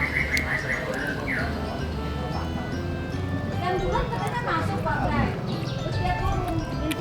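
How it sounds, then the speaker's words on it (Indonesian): Small birds chirp and tweet in brief bursts over a constant background hum, with people talking through much of it at a village food stall. "Bunyi burung."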